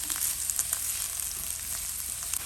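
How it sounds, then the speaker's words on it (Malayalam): Garlic, ginger and shallots fry in hot oil with a steady, dense sizzle, a few soft pops and clicks rising over the continuous hiss. "വെളുത്തുള്ളി ഇഞ്ചി ഇട്ട് 1 മിനിറ്റ് കഴിയുമ്പം ചെറിയ ഉള്ളി ഇട്ട് കൊടുക്കാം"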